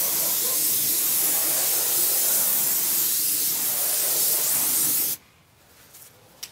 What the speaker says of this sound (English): So I've sprayed my stain on really heavy